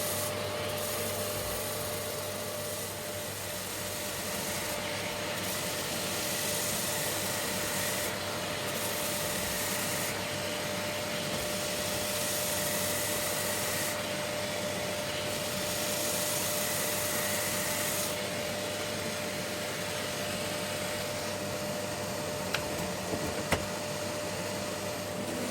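A rotary sander runs continuously over lightweight plywood boxes, a steady loud whirring grind with slight wavering as the loosely held boxes shift, close up and alone, with no talking.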